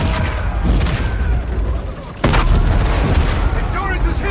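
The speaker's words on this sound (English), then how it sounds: "Our ATIS guns are still firing on our fleet" Anti-aircraft guns fire in Call of Duty Infinite Warfare, with ATIS guns shooting at a fleet above a city. The booming barrage is loud and continuous, and a sharp, heavier blast hits about halfway through.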